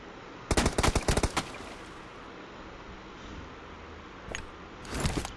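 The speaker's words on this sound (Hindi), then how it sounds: "देखो देखो क्या कवर फायर दे रहा है" Cover fire in a shooter video game: a quick burst of rapid gunshots near the start, then a quieter stretch and another short volley toward the end.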